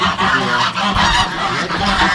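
Young turkeys on a mixed farm call loudly and close, a dense run of overlapping honking gobbles with no pauses.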